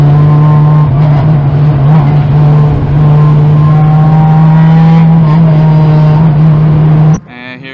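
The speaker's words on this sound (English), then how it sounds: "And here come the cars to the front straight." Race cars roar loudly down the front straight at an endurance race, a steady dense engine drone with rising and falling pitch as the field passes, cut off abruptly near the end.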